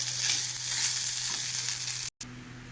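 Finely shredded dhela fish, made into jhuri, fries in hot oil with a continuous soft sizzle under a low steady hum, interrupted by a momentary cut near the end.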